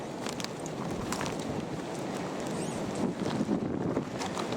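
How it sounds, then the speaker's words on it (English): Strong wind gusting over a disused railway cutting, a continuous rough roar buffeting the microphone with surges of louder gusts, no voices present. "It's getting extremely windy out there."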